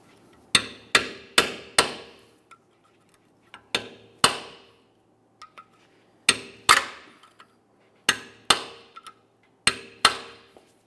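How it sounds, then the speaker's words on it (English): Hammer striking a punch against a snap ring on a front wheel hub of a 2008-2017 Mitsubishi Lancer, with sharp metallic blows coming in quick clusters of two to four hits separated by short pauses, close and loud. "For breaking this free, typically I like to use a hammer and a punch of some sort."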